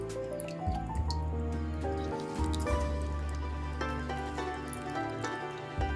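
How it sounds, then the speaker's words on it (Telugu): Lemon juice is squeezed over washed snails in a kitchen, giving light dripping and trickling taps over a steady tonal background hum. "నిమ్మరసం పిండేసి"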